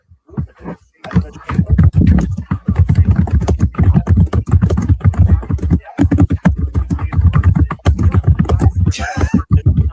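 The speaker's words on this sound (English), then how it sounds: "I just hear you hitting the keyboard." A computer keyboard is hit in rapid, dense clattering bursts that continue almost nonstop at close range, with a brief voice near the end.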